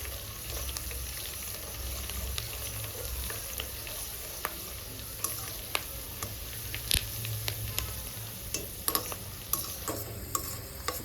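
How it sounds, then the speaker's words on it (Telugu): Curry-leaf tempering fries in oil for gongura pickle: a continuous close sizzle with scattered crackles and sharp pops throughout, and stirring noises now and then. "తాలింపు బాగా ఫ్రై అయింది"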